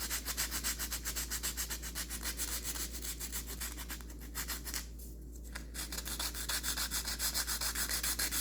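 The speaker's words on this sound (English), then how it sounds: "we're going to continue sanding this edge." Rhythmic back-and-forth rasping of sandpaper on wood, close and steady, with a brief pause midway before the strokes resume.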